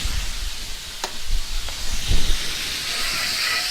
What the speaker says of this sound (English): We're going to take some of this beautiful apple cider vinegar and do what we call a quick deglaze